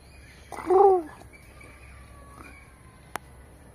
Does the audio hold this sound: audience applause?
no